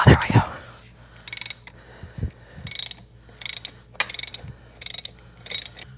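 A ratchet wrench loosening the compensator bolt on a Milwaukee-Eight Harley-Davidson Touring motorcycle during a belt drive install, a series of loud, close clicking bursts in a steady rhythm after some initial clunks.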